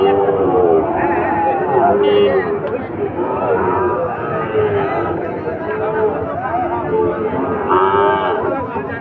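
Gir and Sahiwal bull calves at a cattle market moo repeatedly and loudly up close, amid crowd chatter and a person talking nearby.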